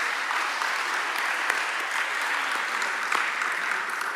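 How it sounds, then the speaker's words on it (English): Conference workshop audience applauding a speaker, an even, moderately distant round of clapping that holds throughout with no voices over it. "I will give another big round of applause to our speaker of today"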